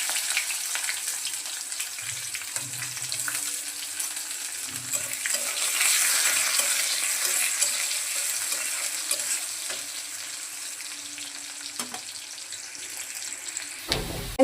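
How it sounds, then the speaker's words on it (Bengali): Sliced onions fry in hot oil with bay leaves, cardamom and cinnamon in a pan, a steady close sizzle broken by occasional stirring scrapes and a brief clatter near the end. "পেঁয়াজগুলো সুন্দর করে ভাজা হয়ে গেছে"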